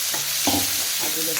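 Asafoetida and finely chopped onion frying in a pan for paneer bhurji, a brief steady close sizzle with a couple of low stirring scrapes.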